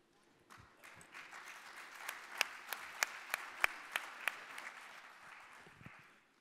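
An audience at a union meeting applauds the guests already seated, a soft, distant wash of clapping with a few sharper individual claps standing out in the middle.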